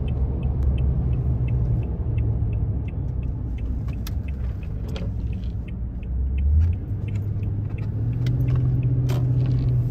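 A truck cruises along a road on a cold day, heard from inside the cab as a steady low engine and road rumble, with faint clinks and a brief swell partway through.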